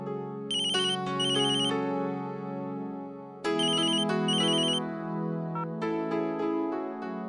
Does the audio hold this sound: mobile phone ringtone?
yes